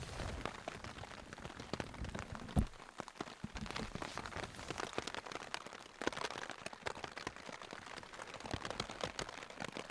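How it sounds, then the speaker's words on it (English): Rain pattering on a hunting tent in high country during an archery hunt, a steady close crackle of drops on fabric with one sharper tap, quiet and continuous. "it's raining pretty good right now"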